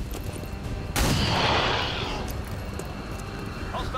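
A single heavy pistol shot in the video game XCOM 2 rings out with a sharp crack and a rumbling tail, set against a constant game soundscape and background hum.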